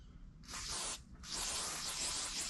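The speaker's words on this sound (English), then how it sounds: "What I'm doing is spraying it on" Two bursts of adhesive remover from an aerosol can onto a boat's boot stripe, a short one then a longer steady hiss, close by with a low background rumble.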